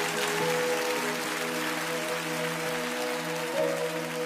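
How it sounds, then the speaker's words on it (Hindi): A studio audience at The Voice India applauding singer Akash, dense sustained clapping filling the room from start to finish, with a faint musical tone underneath and no speech. "सो एक बार या आकाश के लिए ताली बजाओ यार।"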